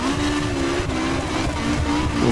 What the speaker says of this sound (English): Let's see what the car sounds like.